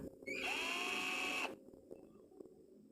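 A cheap cordless electric drill whirs at high speed for about a second, its pitch rising as it spins up, then cuts off abruptly, leaving quiet room noise.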